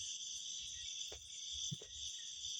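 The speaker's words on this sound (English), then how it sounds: "And this one is cricket. It's small cricket. Yeah, small cricket. Small and black cricket." A small black cricket chirps in quick, faint bursts over a steady high insect drone, with no voices present.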